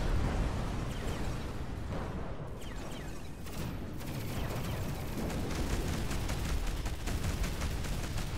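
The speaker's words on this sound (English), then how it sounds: "Lovely explosions, they look really nice." Dense, continuous explosions and weapon fire rumble loudly and without pause in the space shooter game Between the Stars.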